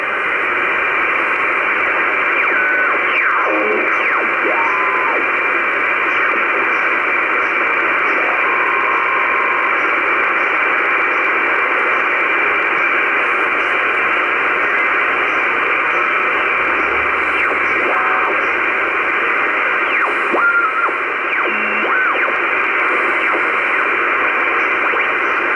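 Sideband radio reception of sporadic E skip on the 50 MHz band: a steady wash of hiss and static with faint, warbling tones drifting in and out, continuous and fairly loud throughout.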